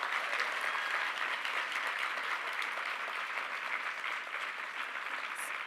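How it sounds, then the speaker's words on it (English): An audience applauds poets at a Furious Flower poetry gathering, a dense, sustained wash of clapping from a sizable crowd that holds steady throughout without voices. "Let's give them all another round of applause."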